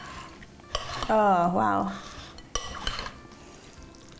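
Macaroni, carrots and cauliflower being stirred in a pan, with soft scraping and clinking of a utensil against the metal and a few sharp knocks, while a person briefly exclaims in the middle.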